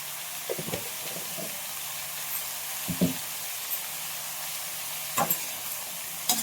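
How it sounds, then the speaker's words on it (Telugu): Sliced bitter gourd is tossed with salt in a hot oiled pan, a steady faint sizzle broken by soft scraping and stirring clicks. "సాల్ట్ వేసుకుని మొక్కలకు అన్నీ సాల్ట్ పట్టేటట్టుగా కలిపేసుకోవాలి"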